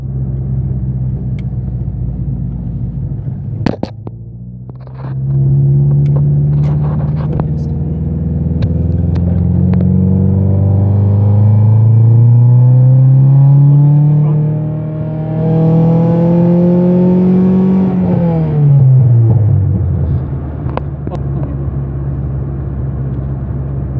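A Honda car engine with its fast idle controller deactivated idles, then revs up in a long climbing pull, holds high, and drops back to idle. The engine sounds close and loud, with a few sharp clicks near the start.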